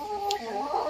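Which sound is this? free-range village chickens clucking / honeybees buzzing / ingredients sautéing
free-range village chickens clucking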